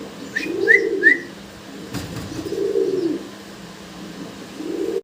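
Fancy pigeons coo close by in soft, rolling phrases that repeat about three times. A few thin whistles and chirps are mixed in over a quiet background.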